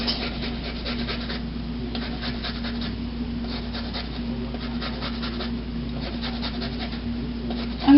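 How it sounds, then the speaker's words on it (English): Half a lemon is grated on a zester, making a steady, close, dry rasping scrape with repeated strokes and no talking. "I'm going to zest about half a lemon today."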